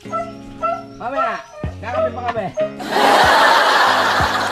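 Several dogs bark and yip in quick, uneven bursts close by at a beach campsite in San Juan, Batangas, followed by a loud rush of noise while the barking continues underneath.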